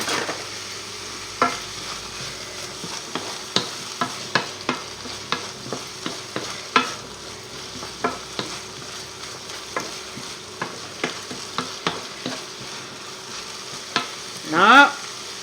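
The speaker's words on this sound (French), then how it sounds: "Ensuite, on ajoute nos pommes de terre." Potatoes frying in a pan, a low steady sizzle punctuated by repeated sharp scrapes and knocks of stirring at irregular intervals, ending in a louder burst of stirring.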